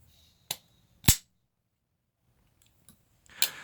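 Several sharp, close clicks of a WE integral flipper knife being flicked open, two crisp snaps early and another pair later, separated by silence.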